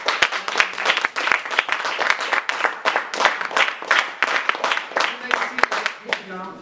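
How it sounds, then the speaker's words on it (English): A church congregation gives a clap offering during a sermon service, with close, fairly loud, steady rhythmic clapping throughout and a voice briefly heard toward the end. "Shall we give him a clap offering?"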